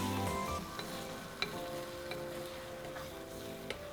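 Beaten eggs with salt and black pepper cooking with vegetables in a pan for Mexican migas, a steady moderate sizzle with a few faint clicks of a utensil.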